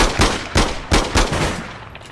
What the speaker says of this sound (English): Shot him like three, maybe four times